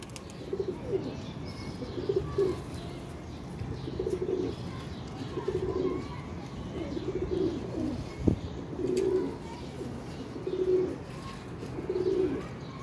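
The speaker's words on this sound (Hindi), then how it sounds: "कबूतर ते अली नूं भी बड़ा पसंद है तेरा" Pigeons coo in soft, repeated low phrases at a steady pace, close by, over a background of rustling and faint ambient noise.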